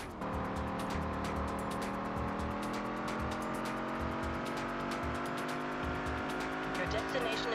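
A car drifting in Test Drive Unlimited on PlayStation 2, steady engine drone with sustained tire squeal and rhythmic thumps, while a person talks over it.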